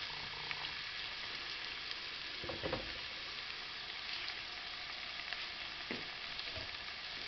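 Peppers and onion fry in a pan with a steady, soft sizzle and a few faint stirring scrapes, and no talk.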